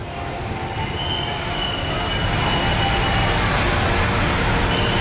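Rail noise at the crowded Senen train station in Central Jakarta: a loud, steady rumble of train cars with a thin, sustained wheel squeal running throughout and no clear voices.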